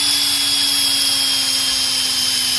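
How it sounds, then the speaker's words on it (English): Hand sanding of an aftermarket eBay turbo wastegate with sandpaper gives a steady, continuous hiss and rasp, loud and close, with a constant hum underneath and no talking. "take your sandpaper, put it in like that, start going to town"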